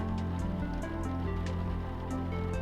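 Steady rain falls in a video game, a dense continuous patter of drops with occasional brighter splashes over a low background hum, constant and close throughout.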